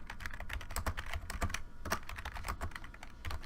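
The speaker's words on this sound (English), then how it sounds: "If I can type." Rapid clicking of a computer keyboard being typed on at a dispatch CAD workstation, with steady, close keystrokes and no talking.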